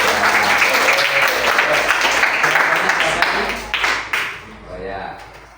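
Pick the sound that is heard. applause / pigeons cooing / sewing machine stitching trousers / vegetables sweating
applause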